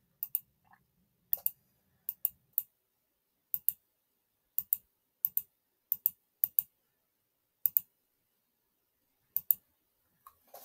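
Sharp computer mouse clicks tapping out dots one at a time at an irregular pace, close and crisp against near silence.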